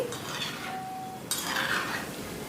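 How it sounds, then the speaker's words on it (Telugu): A ladle stirs banana bondas frying in hot oil, with soft metallic scraping and clinks over a faint sizzle, close and fairly quiet. "రెండు నిమిషాల తర్వాత ఈ బోండాలన్నీ కూడా ఈవెన్గా వేగటం కోసం గరిటతో ఈ విధంగా కలుపుతూ ఉండాలి"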